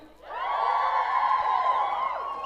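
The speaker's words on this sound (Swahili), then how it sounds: "Makofi na nduru." A live audience at an International Condoms Day event cheers and ululates, a loud sustained wall of high-pitched trilling voices and crowd noise that swells quickly and holds steady throughout.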